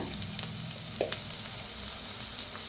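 Turmeric, red chili and coriander powder dry-roast in a pan with a soft, steady sizzle and a couple of brief clinks from stirring, close and fairly quiet.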